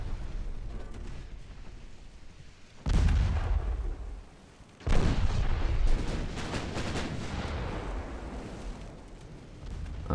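Warship secondary guns in Ultimate Admiral: Dreadnoughts fire in two heavy volleys a couple of seconds apart, each a deep booming roar followed by rumbling, crackling tails over steady background noise.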